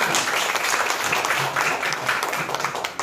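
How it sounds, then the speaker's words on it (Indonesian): A classroom of students claps together for everyone, a moderate, continuous patter of many hands filling the space for a few seconds, with a faint tonal murmur underneath. "Nah, tepuk tangan untuk kita semua."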